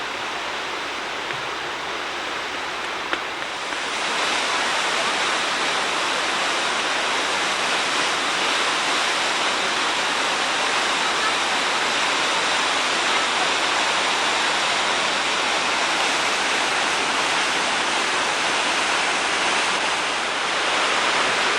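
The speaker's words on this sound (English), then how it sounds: "Now we're at the Shell Falls. It's the falls of the Shell River in Bighorn Canyon." Shell Falls on the Shell River in Bighorn Canyon roars as a steady, dense rush of falling water, loud and unbroken throughout with no voices.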